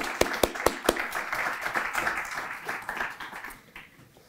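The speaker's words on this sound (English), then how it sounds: "please join me in a round of applause" Audience at an Armenian Genocide memorial evening bursts into applause, a few sharp claps up front giving way to a steady wash of clapping from a crowd that gradually thins out.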